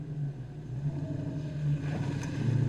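A 1990 Ford Mustang GT with Flowmaster exhaust accelerates, its deep, steady exhaust rumble heard from inside the car and building slightly in loudness, with no talking.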